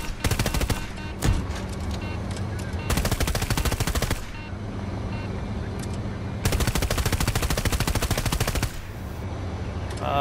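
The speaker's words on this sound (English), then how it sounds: "Shots fired." Automatic gunfire in Battlefield 2042, loud rapid bursts of machine-gun fire in long strings separated by short pauses, close and dominant with no talking.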